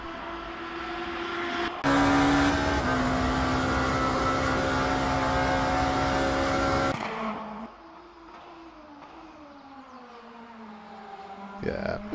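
A race car in Le Mans Ultimate screams past with a loud, sustained engine note for several seconds, then drops away to a quieter, falling drone, followed by a brief rise at the end.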